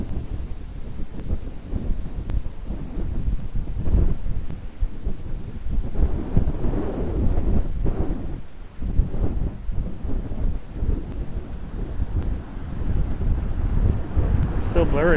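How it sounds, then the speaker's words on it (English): Wind gusting outdoors near a large house, roaring and buffeting steadily against the microphone for the whole stretch, with a voice talking over it. "Does it sound windy to you?"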